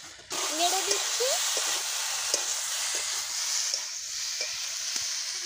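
Shukto of telakucha greens and green banana stirred in a frying pan after the lid comes off, with a steady sizzling hiss and faint spatula scrapes, close up. A short birdlike chirp appears near the start.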